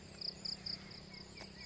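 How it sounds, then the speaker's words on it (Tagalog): Crickets at a mountain campsite in Tanay, three short bursts of faint high chirping in quick succession over a quiet outdoor background. "kuliglig"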